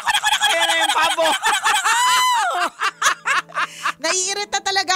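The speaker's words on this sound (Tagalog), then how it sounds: "Ayan na yung pabo." Turkey gobbling in rapid, warbling bursts that rise and fall, loud and close, with brief pauses between calls and a voice speaking around them.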